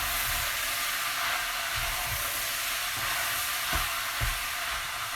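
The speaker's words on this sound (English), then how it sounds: "Just stirring the sausages around." Plain sausages frying in a pan for a sausage and fennel pasta sauce, a steady close sizzle with occasional soft scrapes and clatters of stirring.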